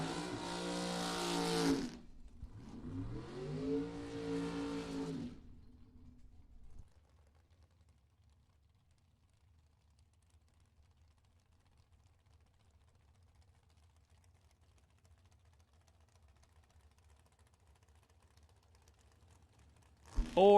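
A bracket-racing dragster at the Firecracker Bracket Nationals pulls out of the burnout box: two loud, close engine blasts with rising revs over about five seconds, then a long low idle rumble and a brief burst at the end.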